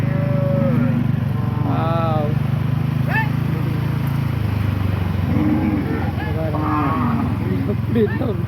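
Several cattle on a rural road lowing repeatedly, with drawn-out moos at varying distances over a constant engine rumble from a passing vehicle, and people speaking nearby.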